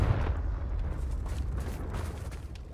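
A Confringo blasting spell detonates in Hogwarts Legacy, a loud rumbling boom that rolls on with a heavy low roar and crackle across the whole moment, with no voices over it.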